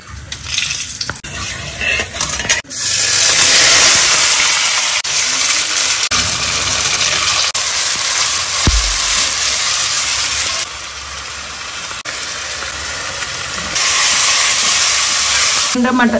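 Mutton spice paste sautéing in a pan with added stock, a loud continuous sizzle and hiss with steady stirring, close up, and a strong background hum through most of the stretch, no talk.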